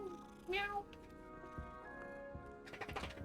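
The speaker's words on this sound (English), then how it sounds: "Oh, there's so many cats." A cat meows in the video game Hogwarts Legacy, one clear, fairly loud meow over a steady musical game background, followed by faint thumps and a brief shuffling burst near the end.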